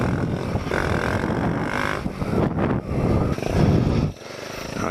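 A Kawasaki Z125 motorcycle in second gear, ridden standing on the pegs during wheelie practice, its small engine buzzing steadily and close with brief dips as the throttle eases, then cutting off sharply near the end.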